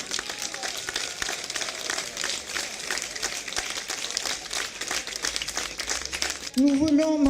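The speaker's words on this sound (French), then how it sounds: "je pense qu'on peut applaudir" Audience at an outdoor community guinguette event applauding, a dense spread of claps lasting several seconds before a voice cuts in at the end.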